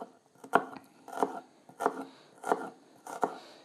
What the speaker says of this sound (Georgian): ხახს უცბად დავჭრი